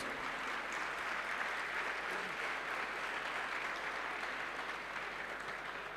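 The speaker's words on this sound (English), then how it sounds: "A loud applause for Darpan, please." Sustained applause from a crowd, steady and dense throughout with no pauses, a full room clapping together.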